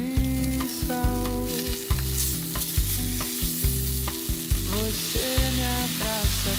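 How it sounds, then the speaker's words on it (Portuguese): Tuna sears in a hot pan with garlic, giving a continuous loud sizzle broken by repeated rhythmic scraping strokes of a utensil stirring and moving the fish. "agora eu só vou passar o atum"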